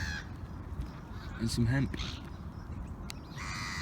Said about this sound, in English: These seagulls are being nice and noisy.